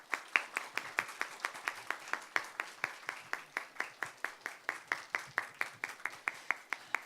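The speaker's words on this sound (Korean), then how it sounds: "우리 기대하는 마음으로 목사님을 박수로 모시도록 하겠습니다" A church congregation applauds to welcome the preacher to the pulpit at a Sunday service, a steady run of rhythmic clapping that carries on without break for several seconds.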